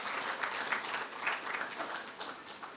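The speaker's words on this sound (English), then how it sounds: "A loud round of applause once more." An audience at a lecture on rethinking India's economy breaks into applause, a dense, fairly faint patter of many hands clapping throughout with slight swells and no speech over it.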